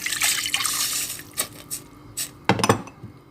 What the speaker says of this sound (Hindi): 1 कप पानी लेंगे।